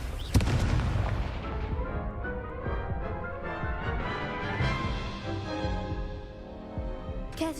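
Confringo spell blasts in a Harry Potter-style wizard-duel video game: a sharp explosive boom followed by a rumbling, crackling series of detonations and debris, loud and continuous, ending with another burst.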